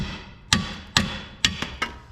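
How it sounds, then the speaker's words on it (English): A hammer strikes a vehicle's steering bearing assembly to knock it loose, five sharp, loud metallic bangs at uneven intervals with ringing decay between blows. "I just take a hammer to this"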